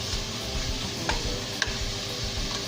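Ground pork frying in a pan for lumpiang togue filling, a steady close sizzle with soft stirring scrapes and a couple of brief clicks, no talking.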